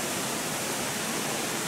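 Waterfall at the source of the Kanna River, a steady broad rushing roar of falling water, close and constant with no other sounds over it.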